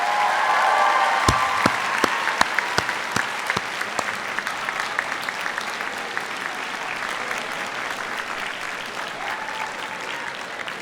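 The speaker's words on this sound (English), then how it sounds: "take a moment to offer their parents a round of applause" Cornell Law convocation graduates give their parents a sustained round of applause from a large hall crowd, dense clapping with some sharp nearby claps, gradually easing in intensity.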